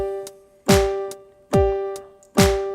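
Piano plays a song slowly with the right hand only: three separate chords, each struck firmly and left ringing out to decay in a steady, unhurried rhythm, close and solo with no voice.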